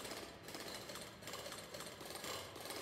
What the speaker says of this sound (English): That's taken a long time to drill.